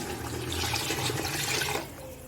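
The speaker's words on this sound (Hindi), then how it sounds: "तो डालेंगे पानी।" Water pours steadily and close into a pot of cooked mutton for Afghani pulao, made with a kilo each of mutton and rice, splashing for nearly two seconds before cutting off.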